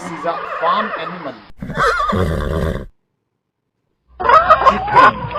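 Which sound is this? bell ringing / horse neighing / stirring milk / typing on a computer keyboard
horse neighing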